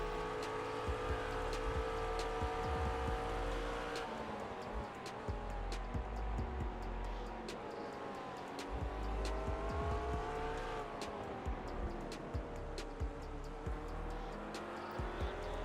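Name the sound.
GT race car engine at Silverstone in video game iRacing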